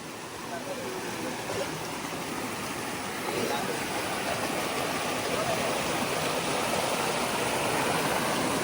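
A jungle stream near Dhareshwar flows with a steady, close rushing wash of water that swells slightly partway through, while people talk faintly in the background.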